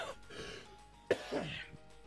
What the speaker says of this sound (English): I'm fighting a bit of a cold, so my cough is back